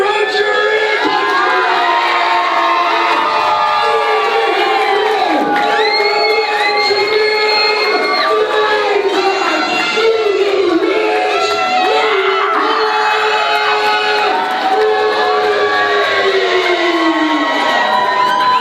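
A packed crowd at a Halloween-themed pro wrestling show cheers and screams loudly and continuously for wrestler Erika Reid, with high-pitched shouts and whoops rising throughout.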